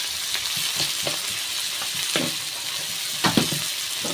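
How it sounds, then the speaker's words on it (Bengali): Potatoes fry in a pan, giving a dense, steady sizzle close up, with a few soft stirring scrapes and light knocks, no voices. "দিয়ে আলুটাকে খুব ভালো করে ভেজে নেব"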